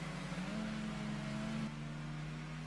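Tropic Orange Mark IV Volkswagen Golf GTI in Gran Turismo 2, its engine droning at a steady held pitch with a slight rise then settling, continuous and fairly loud with no talk.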